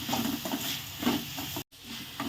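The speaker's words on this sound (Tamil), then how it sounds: "இப்போ மசாலாவுடைய பச்சை வாசனை போகிற அளவுக்கு வதக்கிக்கலாம்" Masala with curry leaves sautés in a pan for a fish curry, a soft close sizzle broken by scraping stir strokes, with a brief gap of silence near the end.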